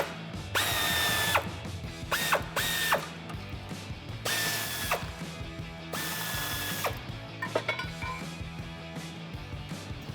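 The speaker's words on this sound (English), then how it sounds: "Grab your 15mm socket and go ahead and get them out." A powered ratchet fitted with a 15mm socket whirs in several bursts as it backs out bolts from a 2007-2013 Chevrolet Silverado 1500 frame, with loud close-up mechanical ratcheting and short pauses between runs.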